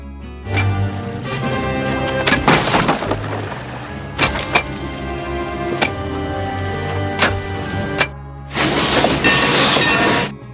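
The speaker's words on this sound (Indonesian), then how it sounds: "sebuah kereta api tiba" A train arrives with a heavy rumble, metallic clanks and sharp impacts spread through the passage, ending in a loud hissing burst.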